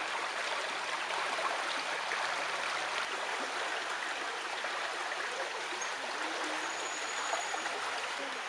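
Steady broadband rush of river water flowing continuously, close and even throughout, with no voices.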